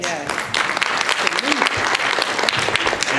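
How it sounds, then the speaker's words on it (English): An audience at a public forum on youth mental health care bursts into loud, dense applause, many hands clapping together close by for a few seconds. "let's give these people a round of applause"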